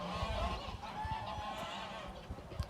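Geese honking in a grazing field where they have stripped the grass, a steady chorus of calls with scattered louder honks over a low background rumble.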